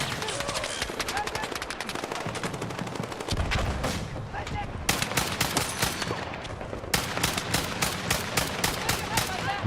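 Rapid bursts of gunfire in a shooter video game, with sharp repeated shots coming in dense volleys and a heavy, continuous barrage through the second half.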